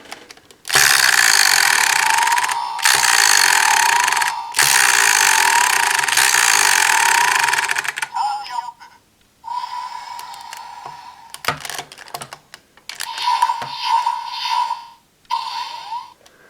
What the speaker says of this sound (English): And that gives you an energy recharge sound.